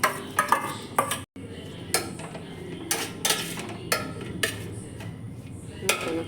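Cooked, salted jackfruit seeds are stirred into drumstick leaf thoran in a pan, with a spoon clinking and scraping sharply against the metal in irregular taps and strokes, close up; a voice speaks faintly in between.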